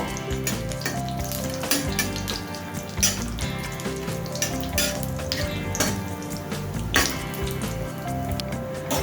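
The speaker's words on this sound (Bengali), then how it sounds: "গোটা মশলাগুলোকে কিছুক্ষণ সময় নিয়ে একটু ভাজা করে নেব।" Whole spices fry in hot oil for Bengali dhokar dalna with a loud, continuous sizzle and crackle, punctuated by occasional stirring scrapes, over faint background music.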